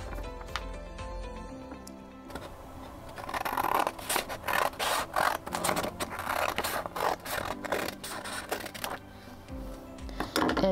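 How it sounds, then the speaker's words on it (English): Scissors cut through a sheet of creased, folded paper for a paper windmill craft, a short rustle first, then a run of close, crisp snipping and rasping strokes lasting several seconds. "And then you're just going to cut it in half."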